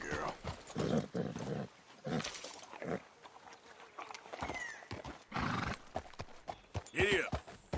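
Horse hooves clip-clop in Red Dead Redemption 2, coming in uneven bursts with a brief whinny and other game sounds mixed in, at a fairly low level.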